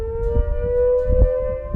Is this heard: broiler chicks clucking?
no